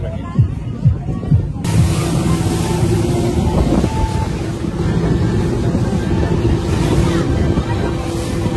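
A speedboat speeds across the water in Nuwara Eliya, Sri Lanka, with a loud steady engine drone and heavy wind buffeting the microphone. People talk briefly at the start before the roar takes over.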